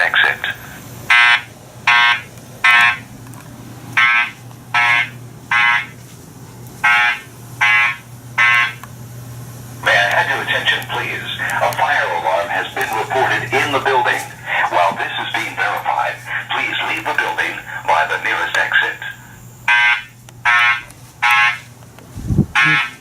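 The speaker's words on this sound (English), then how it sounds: "A fire alarm has been reported in the building." A newly installed building fire alarm system sounds during a test, loud repeating buzzer blasts in a steady rhythm, broken midway by a recorded voice evacuation announcement, then the blasts resume before cutting off.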